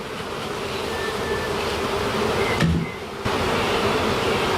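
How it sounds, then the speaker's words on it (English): A swarm of bees left in a shed after the comb has been removed, giving a steady, dense droning buzz that fills the space evenly, with a brief dip in the middle and no talk. "so now we're just left with a bunch of bees"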